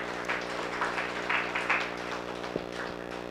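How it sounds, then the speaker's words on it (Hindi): Audience clapping at a Pradeepbhai Shah diet seminar in Matar, a steady, fairly even wash of many hands with a few louder swells, continuing throughout without a break. "सर ताली बजा दीजिए"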